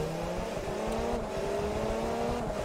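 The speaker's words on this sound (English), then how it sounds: "This is definitely a diesel." Diesel LMP race car in Forza Motorsport 3 droning at low revs, a steady loud engine tone rising and shifting pitch as it accelerates, continuous throughout with no talk.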